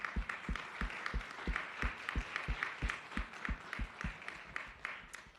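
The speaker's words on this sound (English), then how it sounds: "If you all could join me in a round of applause." Audience applause at a Climate Week session, a steady wash of many hands clapping through the whole stretch, moderately loud and continuous with no talk over it.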